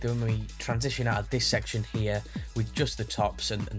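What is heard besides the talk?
No everyday noises stand out.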